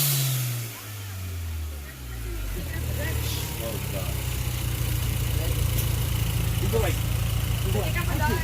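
Hyundai Genesis fitted with a K&N air intake, engine revved up from idle: a low rumble climbs in pitch and then holds at a loud, steady drone, close by, with voices talking over it.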